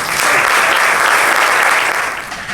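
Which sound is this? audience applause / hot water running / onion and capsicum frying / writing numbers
audience applause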